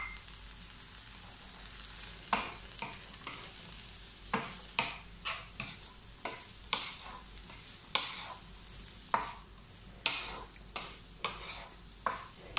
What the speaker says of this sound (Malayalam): ഇതെല്ലാം കൂടി നന്നായിട്ടൊന്ന് ഇളക്കി വഴറ്റണം